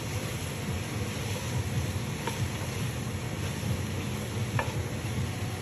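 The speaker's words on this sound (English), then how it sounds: "We're sweating the vegetables." Mirepoix vegetables sweat in a pan for a lobster borscht, giving a close, steady, soft sizzle with faint stirring, and no voices over it.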